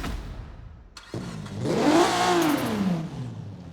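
A video game car's V6 engine in Forza Horizon 4 fires up and revs, its pitch sweeping up and then falling back in a smooth, synthetic-sounding roar. The engine is close and loud, with no talking.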